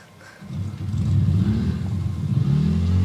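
A vehicle engine in Halo 4 revs up and holds a loud, steady, low rumble as it drives, close and with no talking over it.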